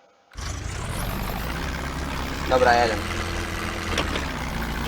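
A tractor engine kicks in abruptly and keeps up a loud, close, rumbling idle with a brief surge partway through, on a farm site where a barn is being built. Someone speaks a couple of words over it.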